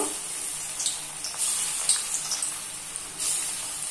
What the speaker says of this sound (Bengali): তেল গরম হয়ে গিয়েছে, এবার এগুলোকে এক এক করে ভেজে নেব।